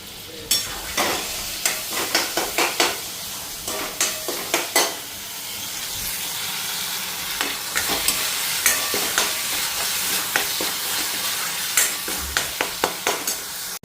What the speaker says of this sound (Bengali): এখন পুঁই পাতাগুলি বড়া ভাজা বসায় আনি